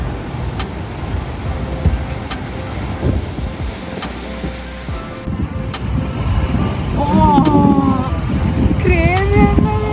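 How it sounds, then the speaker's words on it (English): Ocean waves crash and wash against rocks along 17-Mile Drive on the California coast, a steady loud surf roar with wind and distant traffic, while a person talks over it near the end. "So beautiful in the way the water is hitting the rock."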